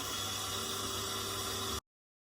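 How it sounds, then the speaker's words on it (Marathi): Electric beater whisking flour into mava cake batter, a steady whirring drone with a faint hum, continuous and close, then cutting off abruptly near the end. "थोडा थोडा बेटरने असं फेटून घेते"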